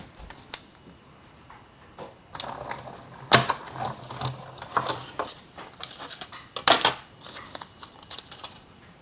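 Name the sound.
Stampin' Cut and Emboss machine die cutting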